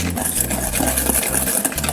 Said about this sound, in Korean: 노른자랑 설탕을 섞어줬어요.